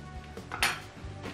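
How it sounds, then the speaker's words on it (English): A spoon quickly stirring chia pudding in a bowl, a short run of scraping strokes with a few light clinks against the dish, close and brief, with no talking. "Quick mix."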